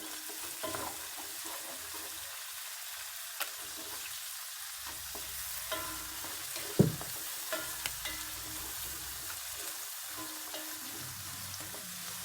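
Garlic, onion and green chilies fry quietly in a pan for nasi mandhi, a soft steady sizzle with occasional stirring scrapes and light clinks.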